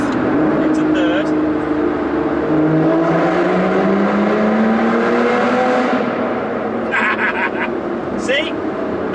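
Aston Martin V12 Vanquish S downshifting into third and accelerating inside a tunnel, a loud, steady engine drone rising in pitch beneath someone talking throughout, with brief gearshift breaks.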